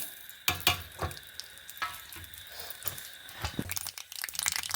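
Mustard seeds and curry leaves sizzling in hot oil for a chutney tempering, with close crackles and sharp pops in an irregular burst pattern over a low hiss, growing busier toward the end.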